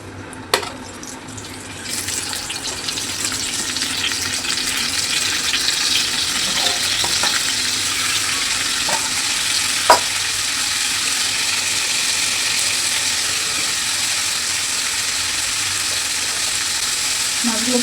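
Fish frying in hot oil in a home kitchen pan, a steady broad sizzle running throughout with a few small clicks and taps from the pan, fairly close and with no voices.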